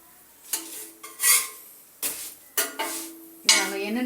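Poli flatbread cooks on a hot pan with only a little oil, giving soft intermittent sizzles and faint scraping or stirring sounds in short bursts, close by with no talking.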